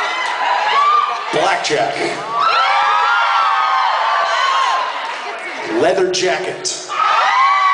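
Concert audience at a live rock show cheering, whooping and shouting loudly in waves, with a voice talking over the crowd noise near the mic.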